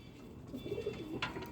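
A long-flying female pigeon coos softly in low, rolling bursts, close by, with a brief higher chirp near the end and no talking over it.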